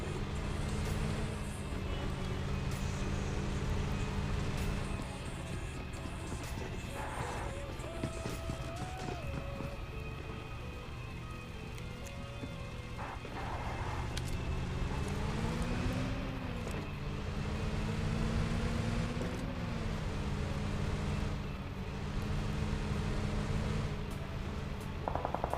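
A vehicle drives in PUBG Mobile payload mode, its engine droning continuously and rising and falling in pitch as it speeds up and slows, set within steady game noise.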